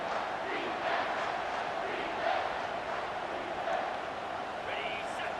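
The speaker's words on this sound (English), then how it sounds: "Decibels rising as the crowd gets behind this defense on third down" A college football stadium crowd at TCU vs. Utah roars on a third down, a sustained massed din that rises and swells in waves, heard from a distance.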